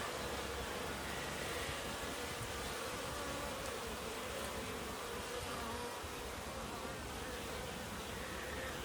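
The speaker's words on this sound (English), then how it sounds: "Some other wasps trying to get in." Wasps and honeybees buzz around a raised beehive in a UK back garden in autumn sunshine, a continuous faint droning hum of many insects with no talk.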